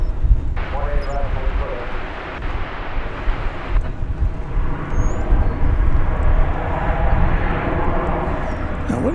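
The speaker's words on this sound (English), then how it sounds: "Oh, the flight from Madrid. It's American Flight 37. It's a Dreamliner -9." Arriving from Madrid at DFW Airport, an American Airlines Boeing 787-9 Dreamliner gives a loud, rumbling engine roar that builds across the stretch, with voices talking over it.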